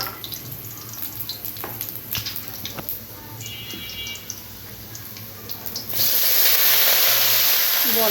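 Greens meet hot garlic-tempered oil in a pan: after a few seconds of quiet kitchen clinks and taps, a loud, sudden hiss of sizzling bursts in and stays strong and continuous to the end.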